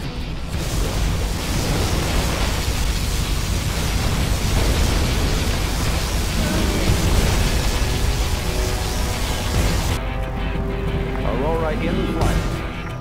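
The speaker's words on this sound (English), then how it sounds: "Particle cannon activated." A loud, continuous roaring blast of a particle cannon firing in Command & Conquer Generals Zero Hour, with rumbling crashes, dense and unbroken throughout, with voices faintly underneath.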